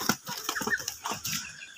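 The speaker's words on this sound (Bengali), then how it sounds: "এখানে মোট 40 পিস মুরগি আছে, মোরগ মুরগি মিলাই।" A flock of about forty 70-day-old Egyptian Fayoumi chickens, hens and roosters together, clucks in short close bursts with some wing flapping, busy and fairly loud.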